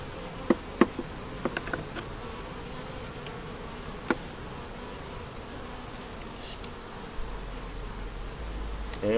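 Honeybees buzz around a small, single nuc hive in a soft, continuous drone. A few sharp knocks and clicks break in near the start, and no one talks.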